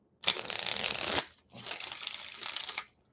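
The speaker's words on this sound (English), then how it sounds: "Ooh, that was a good shuffle." Two bursts of rapid tarot card shuffling, a long riffle then a second shorter one after a brief pause, crisp and close with no talking.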